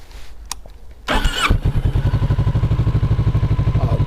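A 2022-onward Kawasaki Z650RS motorcycle with its underslung exhaust cranks and fires, a brief clatter of the starter giving way to a steady, loud, close idle with an even rhythmic pulse.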